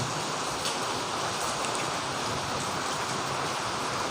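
Steady rain falls continuously on a surface, a dense broadband hiss with soft scattered drop patters and no breaks, fairly loud and close, with no voices.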